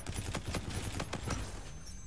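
Rapid video game gunfire from the shooter Infinite Warfare crackles steadily throughout, a dense run of close, loud shots.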